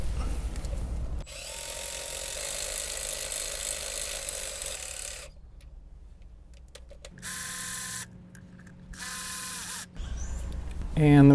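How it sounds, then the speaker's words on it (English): Ratchet loosening the cam cap bolts on a Toyota 1ZZ-FE engine, close rapid clicking bursts separated by short pauses and softer handling sounds, with someone talking at times. "Now we can start loosening up all the cam cap bolts."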